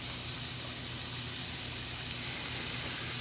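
Vidalia onions and peppers sizzle in hot oil in a pan, a steady, close, broadband frying hiss that holds evenly throughout with no talk over it.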